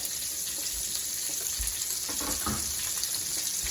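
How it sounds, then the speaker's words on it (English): Smoked sausage and bacon frying in a pot give off a quiet, steady sizzle with occasional soft stirring clunks and scrapes, no voices. "So now that the bacon is mostly cooked, I'm adding the sausage. Get that all brown."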